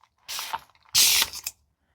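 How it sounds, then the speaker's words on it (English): A spray bottle spritzes twice onto a Christmas ornament coated in polycrylic and paint, two short, close hissing bursts separated by a brief pause in an otherwise quiet room. "I'm just going to spritz."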